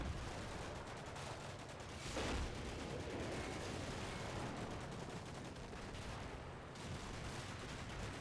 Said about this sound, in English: lots of machine gun fire going around as we're engaging with the squishy forces.